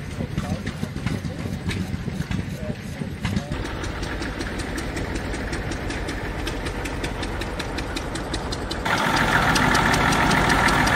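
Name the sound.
old tractors idling at an agricultural show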